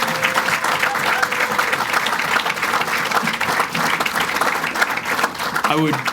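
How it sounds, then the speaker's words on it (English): A banquet audience at a basketball coaches association Hall of Fame banquet applauds players and inductees, a dense, loud, continuous round of clapping lasting the whole stretch, with a faint voice near the end. "if we could give the players and the Hall of Fame inductees a round of applause"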